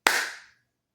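One hand clap at the start of a home review recording, a bright, close single smack with a short ringing tail, then silence.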